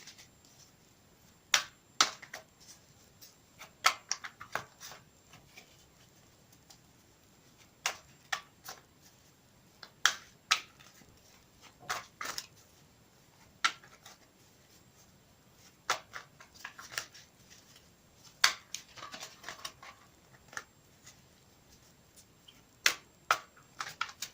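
Modern Witch Tarot cards riffle and snap against each other in repeated short bursts, a quiet, irregular shuffling close by with soft background hiss.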